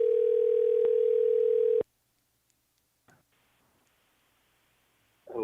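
A phone call sounds a steady, loud dial tone that cuts off abruptly, followed by near silence and faint line clicks and hiss before a sound begins at the end.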